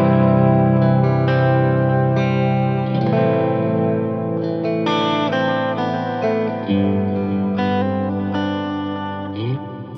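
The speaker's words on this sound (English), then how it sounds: "Next is clean verb, so it's just that big modulated reverb." Clean electric guitar chords through a Line 6 Helix ring out with a big, shimmering modulated reverb, notes blooming and lingering into a wide wash of sound.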